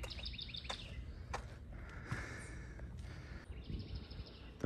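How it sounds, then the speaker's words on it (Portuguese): Several wild birds sing and chirp in the surrounding forest near an open rooftop level at Inhotim, Minas Gerais, with faint high calls scattered over a steady low background rumble. "Tem vários pássaros cantando aqui."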